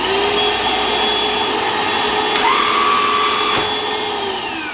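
A Hoover ONEPWR Evolve BH53420 cordless vacuum cleaner runs steadily and loudly with a constant motor whine, its pitch shifting partway through before it winds down near the end; nobody speaks.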